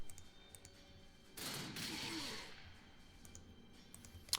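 Weapons fire from units in Warhammer 40,000: Sanctus Reach, a single broad burst of shooting lasting about a second over a quiet battlefield background, fairly faint, with a sharp click near the end.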